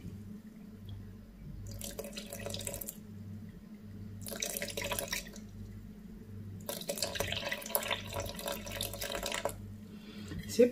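Water trickles slowly onto bread dough sitting on a kitchen scale in short, quiet bursts separated by pauses, over a low steady hum, the thin splashing soft and nearby.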